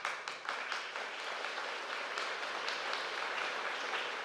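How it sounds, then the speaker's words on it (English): Audience applause fills a high school graduation ceremony hall, a soft, steady wash of many hands clapping at a distance, fairly faint and continuous without talk. "we want to give them a special round of applause too"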